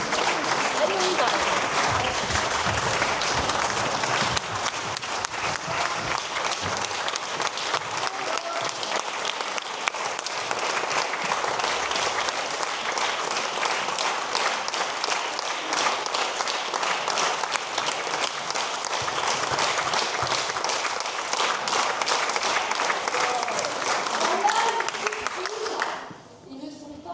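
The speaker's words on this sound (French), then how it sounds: "Je me permets d'intervenir dans vos applaudissements." A seated audience at a trophy presentation ceremony in Avignon applauds in a dense, steady roar of clapping that fills the whole stretch at close range, then thins abruptly right at the end.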